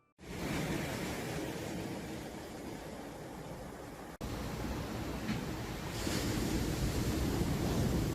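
Strong ocean waves pound an eroding beach at Tanah Ampo in Karangasem, Bali, a loud continuous roar of surf with wind buffeting the microphone and no voices.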